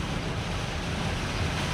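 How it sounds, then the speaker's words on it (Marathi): Heavy storm rain and strong wind on a highway bypass roar as a dense, steady wash of noise, loud and unbroken throughout. "काय पाऊस, काय वारा, काय इजा. बाबा तुफान सुरू आहे, तुफान."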